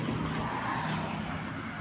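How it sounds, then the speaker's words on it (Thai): A Kubota L1-255 tractor with a three-cylinder, 25-horsepower diesel engine and power steering runs steadily nearby, a continuous low rumble with no breaks or speech. "ตัวนี้จะเป็นเครื่องยนต์ 3 สูบนะครั บ 25 แรงพวงมาลัยพาวเวอร์นะครับ"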